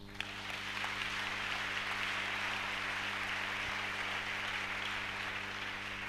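A church congregation applauds Jesus during a sermon, sustained dense clapping and cheering that fills the room steadily from start to finish with a low hum beneath.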